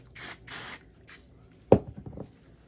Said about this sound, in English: I've had that basting spray quite a long while